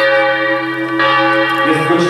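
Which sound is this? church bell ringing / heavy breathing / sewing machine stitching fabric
church bell ringing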